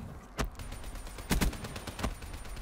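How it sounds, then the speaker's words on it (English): Gunfire in the Black Ops 3 video game: a few sharp bursts of shots spaced out over a low rumbling game background, moderately loud. "decided to shoot him."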